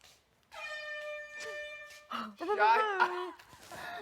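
A sustained, blaring horn blast with a steady harmonic tone lasts over a second, followed by voices talking and laughing loudly nearby.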